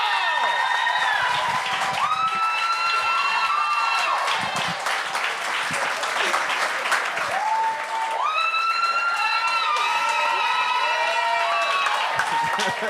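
A comedy show audience applauds and cheers, sustained clapping under loud whoops and tonal shouts and whistles that rise and fall across the crowd, with voices mixed in.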